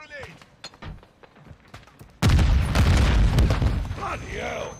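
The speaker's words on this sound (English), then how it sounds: "Toss a grenade." A grenade blast in Call of Duty: Modern Warfare 2 lands with a sudden loud, close boom after quieter gunfire and game sounds, its rumble lingering and fading over the following seconds.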